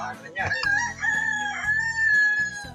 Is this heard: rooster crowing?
yes